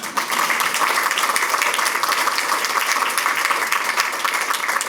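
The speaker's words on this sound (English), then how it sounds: "You guys could applaud for that." An audience breaks into continuous applause, a thick, even wash of many hands clapping at steady volume throughout with no voices standing out.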